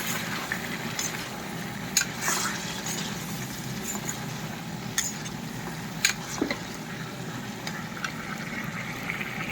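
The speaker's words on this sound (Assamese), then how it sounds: "মাংস পুৰা হিলাই আছো মই পুৰা ড্ৰাই ফ্ৰাই কৰি লৈছো" Meat being dry fried in a pan gives a low, steady sizzle, with periodic scraping and clinking strokes as it is stirred, fairly faint and close throughout.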